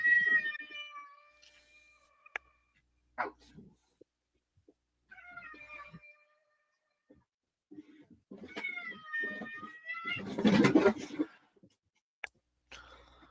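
A house cat meows several times, with drawn-out, wavering calls in separate bursts, close and fairly clear in a quiet room, plus a brief rustling burst near the end.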